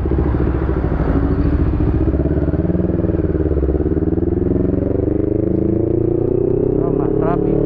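A motorcycle engine drones steadily up close as it rides through traffic, its pitch shifting slightly as it goes, with a faint clatter near the end.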